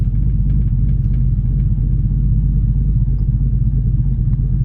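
A truck with an aggressive cam idles at about 700 rpm while rolling off the brake, a loud, close, lumpy low rumble with an uneven loping pulse that runs steadily throughout.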